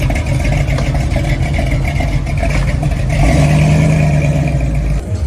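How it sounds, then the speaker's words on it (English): A 1971 Chevelle SS with a 383 V8 runs loud and steady at a car show, its engine rumbling continuously with a slight rise in revs midway through. "1971 Chevelle SS. This puppy has a 383. Great motor."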